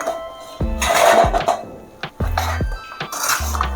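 Gavvalu sweets dropped into hot jaggery syrup in a metal pan, making a run of clattering, clinking hits spread over a few seconds, close and fairly loud.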